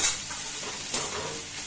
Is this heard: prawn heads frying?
yes